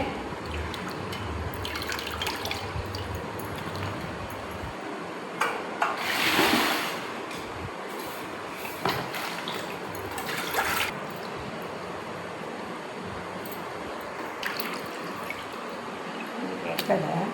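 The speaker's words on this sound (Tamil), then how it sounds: "இங்கே சிக்கன் நல்லா அலசி எடுத்துட்டோம்." Raw chicken pieces are rinsed in water, with dripping and trickling splashes close by, a louder pour around the middle, and steady sloshing throughout.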